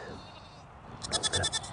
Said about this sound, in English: These are the 2 coolest goats that we have ever owned.